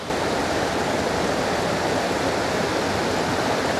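A waterfall in a secluded hiking spot roars as a steady, dense wash of rushing water, close and loud without pause, with no voices.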